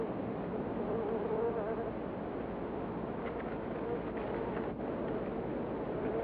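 Bumblebees buzz inside their wax-canopied nest, a dense, continuous close-up hum of many wings droning steadily without pause.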